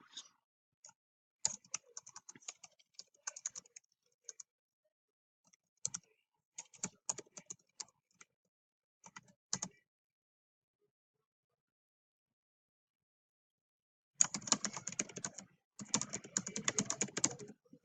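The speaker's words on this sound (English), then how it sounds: "I'm just typing in" Bursts of quiet keyboard typing, quick irregular key clicks in short runs separated by pauses, ending with a longer rapid flurry.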